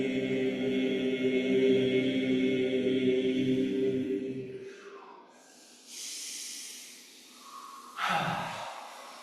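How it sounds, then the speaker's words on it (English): Deep breathing in and out during a breathing exercise: a sustained droning tone fades away, then two slow, airy breaths are heard up close, the second sharper and louder. "Inhale. Exhale. Inhale."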